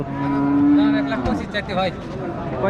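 A cow moos at a busy cattle market in Rajshahi, one long low call close by, then fades into background noise and a few muffled voices.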